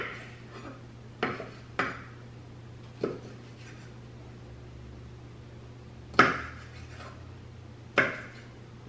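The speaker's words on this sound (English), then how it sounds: "the way that I cut my shrimp is I just cut it 2 times into pieces of 3" Shrimp being cut into pieces for a seafood salad, heard as a handful of sharp, separate knife knocks on a board, spaced a second or two apart over a low steady hum.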